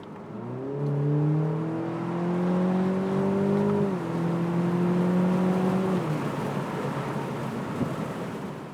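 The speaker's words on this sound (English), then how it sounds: "it's a pretty nice sounding engine too" The 2-liter turbocharged four-cylinder engine of a 2020 BMW Z4 30i hums steadily under broadband road noise, its pitch rising gradually, dropping at a gear change, then rising again before fading.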